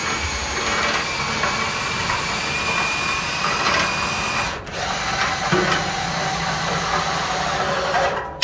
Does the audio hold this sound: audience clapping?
no